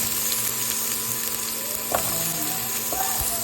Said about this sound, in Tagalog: Fried muna natin itong ating patatas at saka carrots